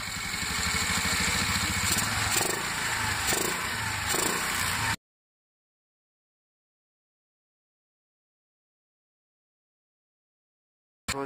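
A Honda scooter engine idles steadily with its air filter cap removed, a close, even mechanical drone lasting about five seconds before cutting to silence.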